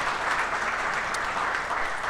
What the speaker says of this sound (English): I think another round of applause for